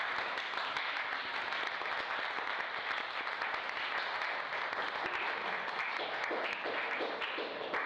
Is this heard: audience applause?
yes